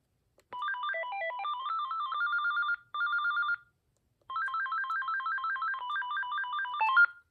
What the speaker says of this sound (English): So it just has 6 ringtones.